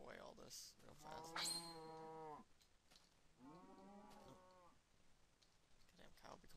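Two low, wobbling moos from a cow in Minecraft, the first longer and louder, the second softer, over quiet in-game background sounds.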